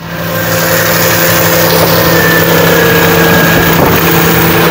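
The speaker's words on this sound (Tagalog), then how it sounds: "Yan, kasalukuyan niyang umaandar, mga bossing ko. Oh. Ganda ng... Napakaganda ng response ng makina." A Multicab minivan engine idles loudly and close by, a steady even drone with a faint rise in pitch partway through.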